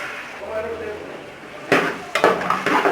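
Chopped tomatoes tipped into a pan of softening eggplant for baingan bharta, landing as two sharp clattering bursts with a brief sizzle that follow a quiet stretch of low kitchen noise.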